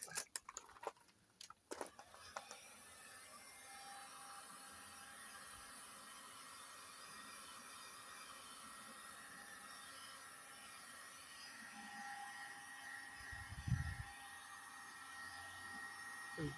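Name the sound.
heat being applied to a VW T5 van's bumper panel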